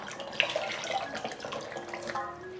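Tap water runs steadily into a bowl of dried shiitake mushrooms set to soak in a home kitchen, a close, continuous splashing stream with small clinks from the bowl.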